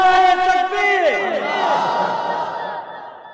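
A large crowd at a Bengali Islamic sermon (waz) shouts the takbir together in one loud, drawn-out roar that slowly fades.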